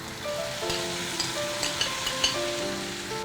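Fresh tomato pulp hitting sautéed onions in a hot pan over a medium flame, giving a steady, soft crackling sizzle with a few brief pops, with faint tonal background music underneath.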